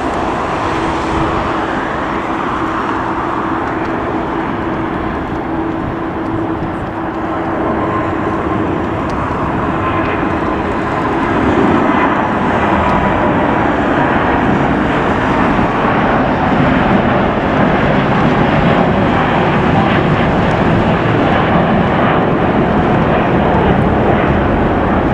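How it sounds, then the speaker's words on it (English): Airplane taking off at Los Angeles International Airport: a loud, sustained roar of jet engines that swells about halfway through and keeps building, heard outdoors from the ground, with no talking. "Let's get this takeoff."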